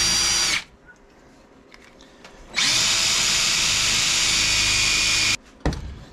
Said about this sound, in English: drill a hole in the center of it